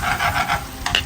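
A spatula stirring chicken frying in butter and oil, giving a few quick rhythmic scraping strokes over a close, steady sizzle.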